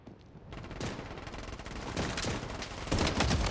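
Rapid bursts of automatic gunfire in the video game Blood Strike, loud and dense, with overlapping shots rattling continuously for a few seconds.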